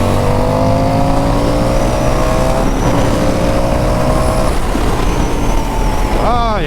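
A 2021 Indian FTR motorcycle accelerates on a Florida road, engine pitch climbing steadily through gears with wind roar over a continuous loud drone and a rising rev at the end.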